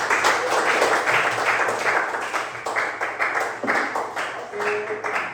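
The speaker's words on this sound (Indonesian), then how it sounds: "Jadi tepuk tangan dulu untuk kita semua." An audience in a classroom presentation session claps steadily for several seconds, a dense, even applause at close range with no talk over it.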